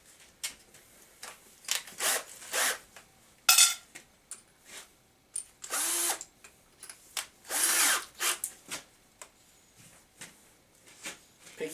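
A power drill drilling a hole in a bucket whirs in several short bursts, with a few longer, louder runs, separated by pauses, clicks and handling noises.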